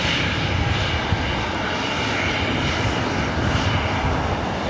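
A heavy airliner touches down at LAX with a loud, continuous broadband engine roar that stays steady and close throughout, no voices over it.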